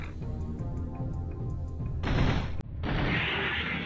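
Gunfire in the Nintendo 64 game Turok: Dinosaur Hunter bursts loud and close, a rapid fusillade followed by heavy noisy blasts over a steady electronic background tone.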